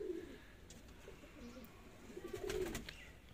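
Dab wale pigeons give soft, low coos, one short call at the start and a longer throaty coo near the end, close by over quiet background rustle and a few faint chirps.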